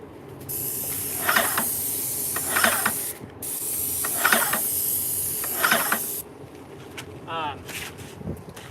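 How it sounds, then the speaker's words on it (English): A spray gun hisses paint onto a desk in a series of separate bursts, each a few seconds long, with quieter pauses and mechanical clicks between passes; no one speaks. "when you're spraying, you don't want to pull the trigger when you're already on your piece"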